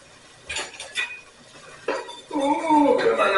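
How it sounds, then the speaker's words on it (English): Onions go into a pot of French Basque chicken stew, with a few close clattering knocks of utensil against the pot and a brief voice-like sound near the end. "Now, I'm going to add my onions."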